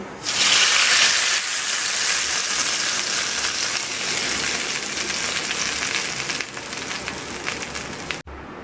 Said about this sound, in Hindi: यहाँ पर हमने जो कड़ी रखी है और इसके ऊपर इसको डाल देंगे।